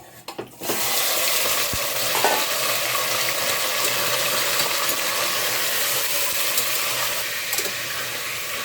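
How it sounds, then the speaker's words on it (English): Mutton stirring and roasting in hot ghee with whole spices for Kashmiri rogan josh, a steady loud sizzle and frying hiss running nearly continuously after a brief quieter start, with occasional scraping stir sounds and no talk. "This is a process where you roast or you stir the mutton into the ghee without water"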